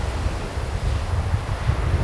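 Strong wind on the sea at a campsite on Gotland during a stormy day, with a steady roar of surf and gusting wind buffeting the microphone throughout, loud and continuous with no voices.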